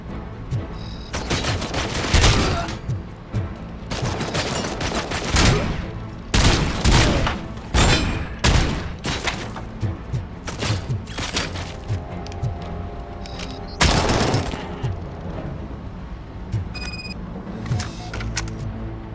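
AK rifle fire from Robocop: Rogue City crackles in dense, loud bursts and single shots over about twenty seconds, mixed with impacts and game effects, with no voices.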